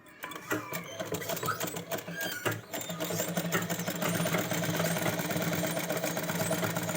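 A sewing machine runs a second line of stitching around the folded strip along the hem of a baby gown. It starts with a few short bursts, then settles into a steady, close, whirring drone without speech.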